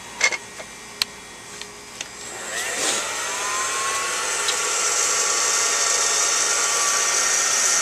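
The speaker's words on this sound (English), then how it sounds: "Basically, the beans are going to spin in the hot air popcorn popper" Coffee beans roasting in a hot air popcorn popper give a steady, loud whooshing blower roar that builds after a few sharp clicks at the start and then holds evenly to the end.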